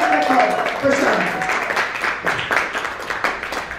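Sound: round of applause from the audience

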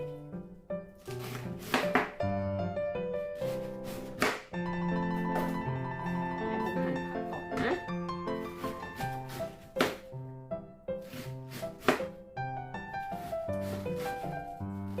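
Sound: chopping vegetables with knife

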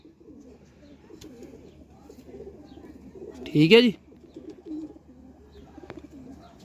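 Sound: golden pigeons cooing

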